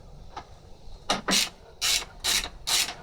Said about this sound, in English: Loosen that bolt off.